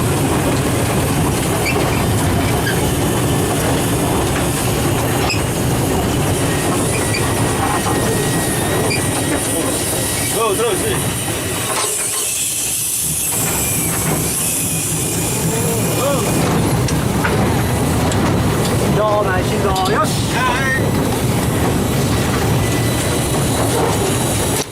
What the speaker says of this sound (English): The absence of field lines meant we can only run the locomotive back and forth between the shed and the former road yard.